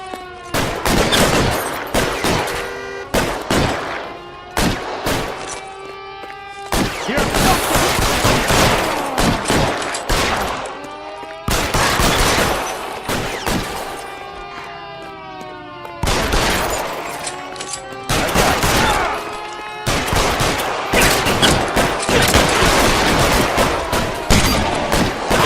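Heavy covering gunfire in the video game L.A. Noire, dense overlapping volleys of shots for the full stretch with brief gaps, loud and close, without talk.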